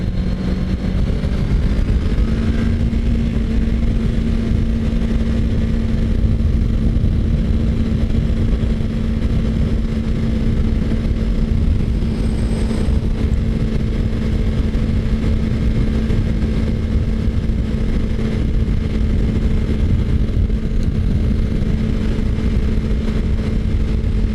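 Car driving southbound on North Alexander around sunset, a steady loud engine drone with a sustained low hum throughout, continuous and close with no voices.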